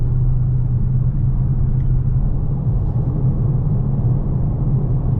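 A 2022 Dodge Charger Daytona's engine drones as it drives, a loud, steady low rumble filling the cabin without any talk.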